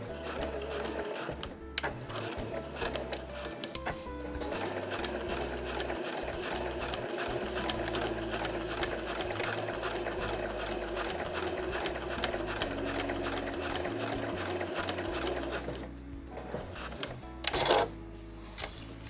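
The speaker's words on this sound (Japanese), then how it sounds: "そしたらこの返し口を残してぐるっと1周1センチ縫います" Domestic sewing machine stitching a 1 cm seam around a reversible drawstring tote bag made of printed cotton fabric, running in a steady continuous whir with rapid needle clatter and a brief pause near the end, close and clear with no talk.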